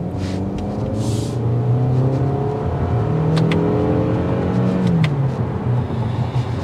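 A 2023 Toyota Camry XP with a 203-horsepower engine accelerates hard on a road test drive, its engine note climbing through rising revs with a gear change, loud and close inside the cabin.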